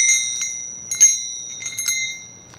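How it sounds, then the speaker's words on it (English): Handbells are rung in short bright strikes, a few separated chimes with sustained ringing tones fading between them, fairly close and clear against a quiet room. "I've got to find some different bells."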